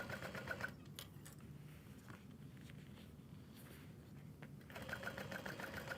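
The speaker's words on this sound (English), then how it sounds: "we're gonna top stitch on the lower exterior." A sewing machine top stitches the lower exterior of a petite Taylor tote, running in faint short bursts at the start and again near the end, with a quiet pause between.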